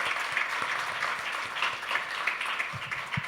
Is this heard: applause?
yes